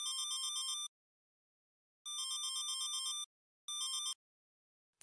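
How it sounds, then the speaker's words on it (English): A mobile phone ringtone plays as three bursts of a bright, rapid electronic trill, the last one shorter, with clean silent gaps between them and no voices. "Ringtone. Sound or melody used to alert or indicate an incoming call on a mobile phone."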